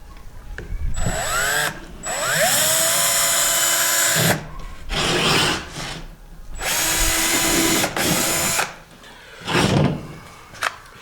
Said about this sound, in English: Last one's been ornery, so I'm going to drill it.